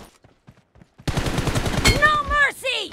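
In PUBG, faint scattered taps give way to a sudden loud, sustained burst of rapid gunfire at close range, with a voice rising over the shooting.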